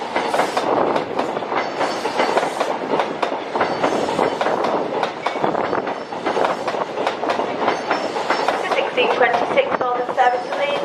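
A Northern train moves along a platform at Doncaster station with a steady, loud rumble and rhythmic clatter of wheels throughout, under continuous station noise.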